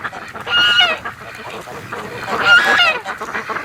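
Several loud goose-like honking calls from nearby waterfowl, clustered in two bursts with wind noise between them.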